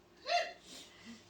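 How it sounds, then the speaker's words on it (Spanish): A single sharp hiccup from a person during a Spanish-language class, loud and close, followed by a softer breath and faint vocal sounds. "Tengo hipo."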